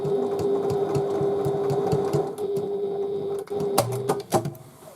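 A sewing machine runs steadily while backstitching a seam on a tote bag, a continuous close mechanical whir with a rapid needle rhythm that falters and stops near the end with a few clunks.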